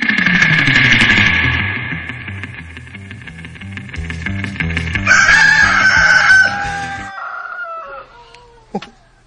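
A rooster crows loudly and close by in a long drawn-out call, followed by clucking and a rising second crow, then fading into a few sharp calls and quiet at the end.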